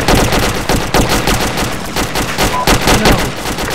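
Dense, loud gunfire in Arma 2, overlapping rifle and machine-gun shots rattling continuously from near and far with no break.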